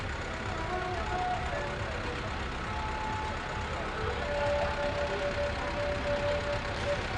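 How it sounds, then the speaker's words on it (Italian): Motorized floats roll past during the Sant'Antonio procession in Arbus, a steady low engine rumble with faint tonal sounds drifting over it, continuous and moderately distant. "continuate a vedere il passaggio delle tracas a motore"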